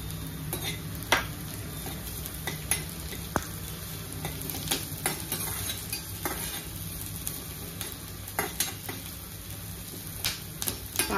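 Onion fries with curry leaves and chopped green chillies in a pan for kanda poha, cooking to a light golden. A steady soft sizzle runs throughout, broken by irregular scraping clicks of a spatula stirring, with no voices.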